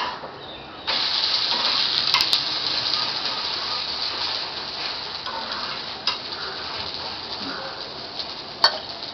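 Thalipeeth frying in a generous layer of oil in a pan, giving a steady, close sizzle and crackle that starts abruptly and keeps going at an even level, with a few brief sharper pops.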